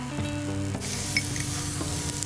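Minced bell pepper and mini tomatoes sizzle lightly in a pan, a continuous soft frying hiss with faint stirring scrapes and no talking.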